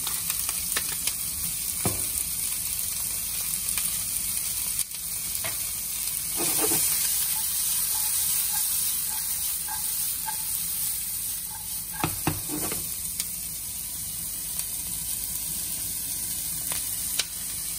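Onions fry in a pan for ratatouille with a quiet continuous sizzle, punctuated by scattered stirring scrapes and clicks.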